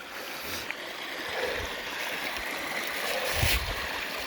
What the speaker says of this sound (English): with the water running down this little stream.